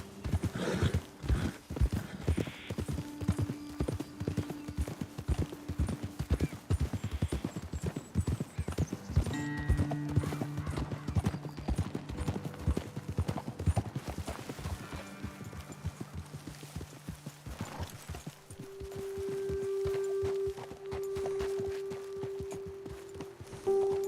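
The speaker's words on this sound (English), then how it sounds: "let's dismount here. Best leave the horses back a bit" Horses walking in Red Dead Redemption 2 with a regular clip-clop of hooves on hard ground, close by, with occasional snorts and faint background music.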